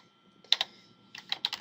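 Typing on a computer keyboard, a few quick clustered keystrokes in two short bursts, close and fairly quiet in an otherwise still room.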